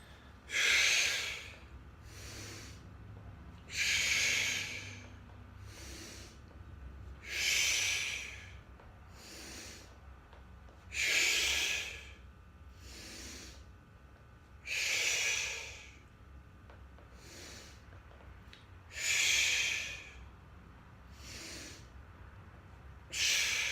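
Heavy, rhythmic breathing during a hip drop core exercise in a boxing HIIT workout, six or seven strong hissing exhales spaced a few seconds apart, close and alone.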